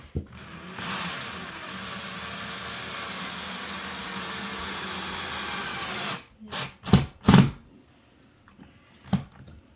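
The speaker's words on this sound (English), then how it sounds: "got this screwed in here, right into that stud" A power drill drives a screw into a wall stud to mount a curtain rod bracket, whirring steadily and close for about six seconds, then cutting off into a few short bursts and quiet handling.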